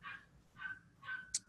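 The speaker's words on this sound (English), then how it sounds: "I don't know if you can hear my dogs barking in the background" Faint, distant dogs bark and yip in the background of a quiet room, three short soft barks spaced evenly, then one sharper, higher yap.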